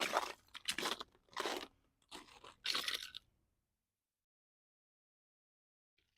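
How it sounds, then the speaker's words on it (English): Four or five loud, rough crunches in an uneven rhythm, close by, of footsteps breaking through ice while walking near a lift bridge, then silence with a faint scrape at the end. "You can hear all the crunching of the ice."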